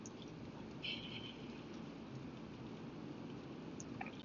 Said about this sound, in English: my Lord, it has been very rainy here